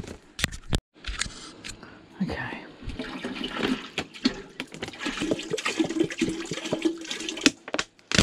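Water is poured into an urn for a plug soup, a gushing, splashing stream with clanks and knocks of metal, fairly close and loud, starting and stopping, with some talking in between.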